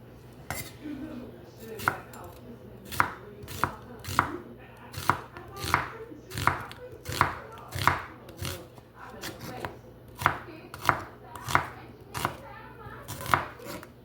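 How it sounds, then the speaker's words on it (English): A knife chops onions on a cutting board in a home kitchen, sharp evenly spaced knocks repeating about twice a second, close and clear over a low steady hum with no talking. "it doesn't say that I need to chop these to any size, just chopped onions"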